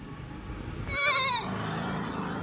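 A young sheep lamb on a farm in Kottiyam, Kerala, gives a single short, wavering bleat close by against a low background hum.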